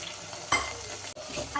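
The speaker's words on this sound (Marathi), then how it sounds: "आता इथे मसाला होतोय आणि मी हलवते" Masala sizzles and fries in a pan while being stirred, a continuous hiss broken by a sharp scrape near the start and a brief dip partway through.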